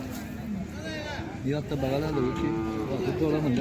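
Khillar cattle at a busy livestock market in Sangola moo repeatedly, loud and close, with a calf among them, while people talk over the lowing throughout.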